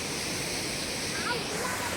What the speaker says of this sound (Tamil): இது சூப்பரான ப்ரைவேட் ஃபால்ஸ்.